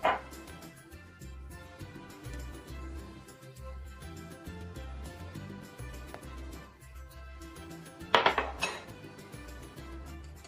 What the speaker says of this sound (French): On mélange tout le sucre avec les œufs, un œuf puis un autre œuf, on mélange bien le tout.